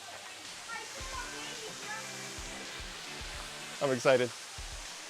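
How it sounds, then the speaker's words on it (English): Cucumber Falls at Ohiopyle, Pennsylvania, a steady roaring rush of falling water running throughout the clip beneath people talking nearby. "Waterfall, waterfall."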